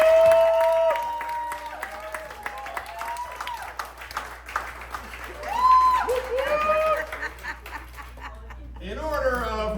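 An improv comedy audience claps and cheers for a performer, with whoops and raised voices riding over the applause throughout and a louder burst near the end.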